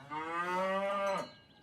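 A single long cow moo on a farm, loud and close, rising steadily and then cutting off sharply, with only faint background after.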